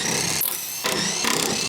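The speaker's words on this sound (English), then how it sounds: "Now we have the 13mm socket on the large impact, and we'll remove the 8 bolts holding on the factory spare tire carrier." A large electric impact wrench fitted with a 13mm socket removes bolts from the factory spare tire carrier on a 2007-2018 Jeep Wrangler, heard as two loud, close, rattling bursts separated by a short pause.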